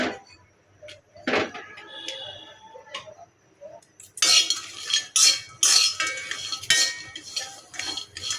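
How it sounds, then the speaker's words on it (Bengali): Dried loitta fish (Bombay duck) dry-fried in a hot pan, with a spatula clattering and scraping against the metal; sparse at first, then a dense run of loud, close scrapes and clinks. "লইটা শুটকিগুলো একটু ভালোভাবে বেজে নেব"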